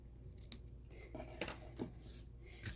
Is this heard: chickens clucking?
no